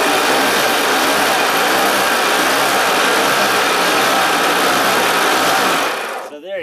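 A homemade generator with two neodymium magnets, spun fast by a hand crank, gives a loud, continuous whirring drone that holds steady for several seconds and then cuts off abruptly.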